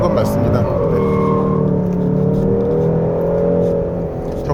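A 2024 Hyundai Sonata N Line 2.5T engine revs high on a winding mountain road, a sustained sporty tone that holds and shifts pitch, heard from inside the cabin under someone talking.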